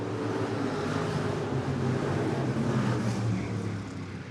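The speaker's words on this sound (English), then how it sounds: "As they motor their way out of turn number 4, Jerry Schramm and Weinbarger make a little" IMCA stock car engines roar steadily around Sunset Speedway Park during a feature race, a dense, continuous mechanical drone that holds at a constant loud level with no gaps.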